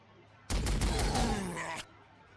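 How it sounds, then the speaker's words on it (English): A lascannon in the Warhammer 40,000: Sanctus Reach strategy game fires a single loud, broadband blast lasting over a second, with crackling energy and a sweeping tone before it cuts off abruptly, no talking over it. "let's las cannon a few of them"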